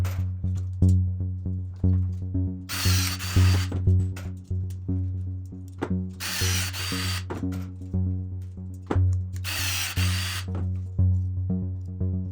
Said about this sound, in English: I'll just rivet it from this side